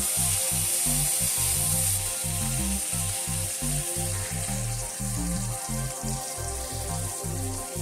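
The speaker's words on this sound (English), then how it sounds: "While our bacon is cooking" Bacon strips sizzling and crackling steadily in a hot pan, a dense continuous hiss running close and fairly loud with no talk, while low music plays underneath.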